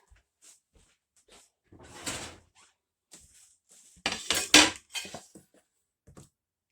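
Kitchen clatter as a cutting board is pulled out: scattered light knocks and taps, then a couple of louder wooden and hard-surface bangs and scrapes near the middle, close by with no talking.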